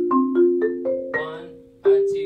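Mallet percussion notes played in a dotted eighth-note rhythm, a handful of clear ringing strikes stepping through pitches, close and moderately loud, with no talking.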